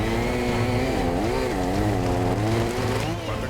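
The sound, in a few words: chainsaw cutting logs in forest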